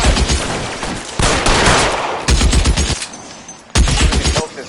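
Dense bursts of automatic gunfire and explosions in a PS4 shooter game, loud and sustained, with rapid volleys that break off and resume several times.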